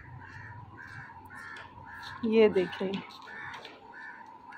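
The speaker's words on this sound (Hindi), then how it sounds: "कौवे बहुत ज़ोरों से चिल्ला रहे थे।" Crows caw loudly outdoors in a repeated, evenly spaced series, with a louder burst partway through and a person speaking briefly over them.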